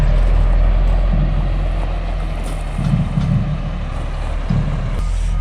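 Loaded dump truck carrying about 25 tons of rock idling loud and close, a heavy low engine drone with faint intermittent beeps and clanks, no voices.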